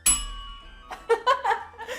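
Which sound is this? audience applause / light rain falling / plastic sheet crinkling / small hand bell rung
small hand bell rung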